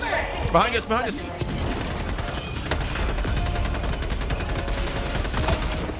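Rapid machine gun fire in the Helldivers 2 video game, a dense continuous barrage of shots with explosions, filling the whole stretch while players shout over it.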